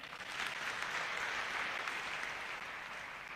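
Faint, distant applause from a crowd at an outdoor political rally in Kiambu forms a dense, steady wash of clapping for a few seconds without voices.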